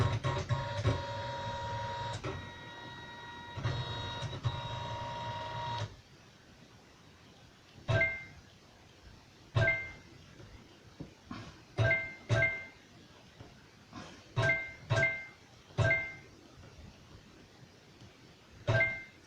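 Sewing machine stitching through a satin coaster: a steady motor whir in two runs with short pauses, then a series of separate sharp clicks and thunks as it stitches in short bursts, close and fairly quiet.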